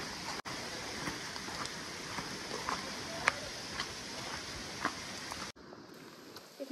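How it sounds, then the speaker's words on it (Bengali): Rain falls in a red-soil forest near flowing water during a group bike ride in Belpahari, Jhargram, a faint, steady hiss with scattered soft drop taps, then quieter toward the end. "বৃষ্টি পড়ছে"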